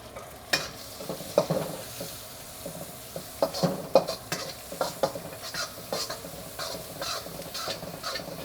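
Shrimp and shallots stir-frying in a wok for pad thai, a steady sizzle broken by repeated scraping and stirring strokes, close and moderately loud, with no talking.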